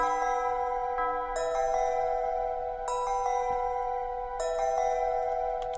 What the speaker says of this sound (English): just topped it off with two bells.